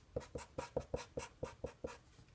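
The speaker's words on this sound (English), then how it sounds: "So I'll just write this again." Chalk taps and strokes on a board during a math lecture, about nine quick evenly spaced scratches in a steady rhythm, close and fairly quiet, with no talking.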